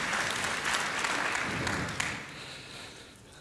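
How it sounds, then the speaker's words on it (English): Applause from a conference audience welcoming the President of Niger, Mahamadou Issoufou, at a special session: a dense, steady wash of clapping that thins and softens toward the end. "Please welcome him with a big round of applause."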